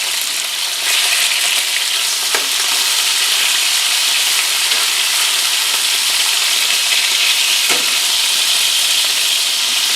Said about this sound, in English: we'll throw our beef in and get this browning up a little bit.